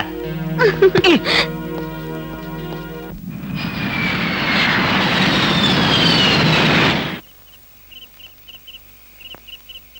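A loud, steady roar of an airplane engine rises abruptly after a brief musical passage, holds for several seconds, then cuts off, leaving quieter ambience.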